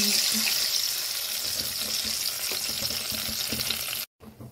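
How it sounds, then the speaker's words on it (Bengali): Tamarind water poured into hot oil for a fish curry, a loud rushing hiss and sizzle that runs steadily for about four seconds before stopping abruptly, leaving only faint kitchen sounds. "এবারে তেঁতুলের জলটা দিয়ে দিচ্ছি।"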